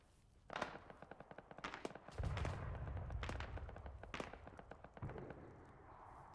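Arma 3 gunfire rings out as a string of sharp shots and short automatic bursts, some heavier thumps among them, fairly quiet and set back in the distance.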